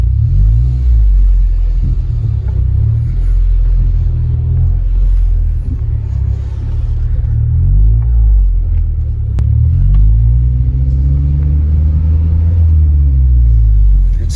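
Deep, steady exhaust rumble of a 9th-gen Honda Civic Si with a full race exhaust, heard from inside the cabin with the windows down, loud and continuous with engine pitch rising and falling as it drives.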